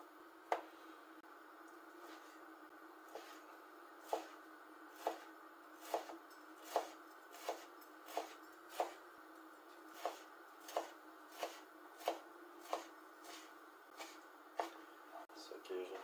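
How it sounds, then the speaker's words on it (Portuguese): A knife chops bacon into cubes on a cutting board in steady rhythmic knocks, around eighteen crisp close strikes over a soft background hum. "Então aqui eu vou picar e já vou deixar reservado"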